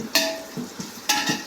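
Onions sautéing in a pan for chicken biryani, with steady sizzle broken by two sharp stirring scrapes and a few soft utensil knocks, close and alone without voices.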